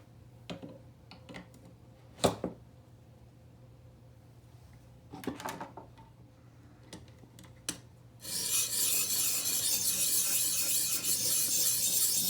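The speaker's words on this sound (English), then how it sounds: "So we'll just keep sharpening." A machete is sharpened on a ViperSharp sharpener: a few isolated scrapes and ticks at first, then a continuous loud rasping stroke of steel on abrasive close by.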